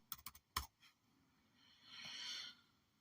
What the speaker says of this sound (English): I'm going to type in hello.